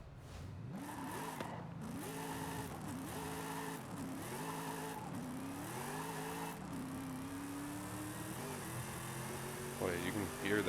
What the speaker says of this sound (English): Boy, you can hear that supercharger.